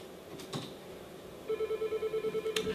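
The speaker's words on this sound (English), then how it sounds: "It's ringing, but before I answer it, let's just turn up the volume a bit so we can hear it." A Yealink T19P IP desk phone rings with a steady pulsing electronic tone that starts partway through, close and clear, after a couple of faint handling clicks.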